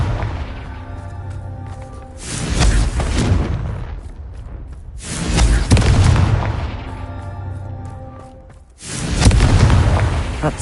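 Confringo fire spell blasts in the video game Hogwarts Legacy, three heavy booming explosions with rumbling tails, each swelling loud and close and then fading before the next.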